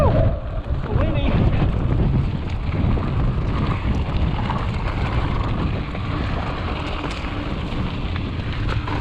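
Strong wind buffets the microphone on the Fish Lake Lakeshore Trail during a ride on an Ari Bikes Cascade Peak mountain bike, a loud continuous low roar with gusty rumbling throughout.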